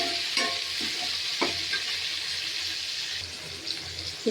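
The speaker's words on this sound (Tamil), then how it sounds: "வெங்காயம் நல்லா வதங்கிடுச்சுங்களா? இப்போ தக்காளி போடலாம்." Onions and tomatoes sautéing in a pan and being stirred, a steady close sizzle with a few scraping knocks of the spoon scattered through, no talking.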